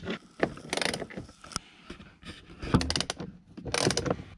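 Hand ratchet clicking in quick bursts while backing out two 10 mm bolts on a Ford F150 during an auxiliary switch install, with scattered clanks of tools and parts between the ratcheting runs.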